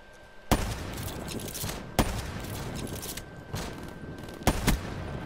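Gunfire rings out in Black Ops III multiplayer as several sharp bursts over a steady background din, with small pauses between the bursts.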